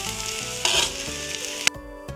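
Tempering oil sizzles and spits in a pan for a beans curry, a steady frying hiss with a few sharp pops and a brief louder burst near the end, no voices present.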